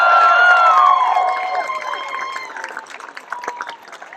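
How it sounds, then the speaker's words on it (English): Crowd cheering and applause at an air show VIP reception honoring a Thunderbirds squadron member, loud at first with whoops and shouts, then easing into scattered claps as the noise fades. "Huge round of applause for Flash."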